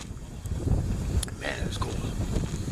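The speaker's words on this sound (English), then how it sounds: "That wind's picked up again. The wind picks up off and on out here." Wind blowing steadily across a cold winter hammock camp outdoors, a continuous broad rushing roar that buffets the microphone, loud and close throughout with slight gusting swells.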